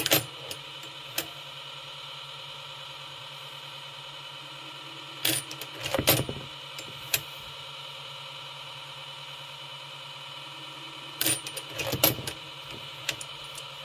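A BurstFire Gen2 annealer runs with its actuating arm cycling, giving a low steady hum broken by sharp metallic clacks and clinks in two clusters, close and fairly loud.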